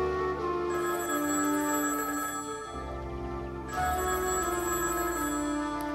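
A telephone rings in the Higurashi video game, a sustained electronic bell tone that pauses briefly and then resumes, steady and clear with no voices over it.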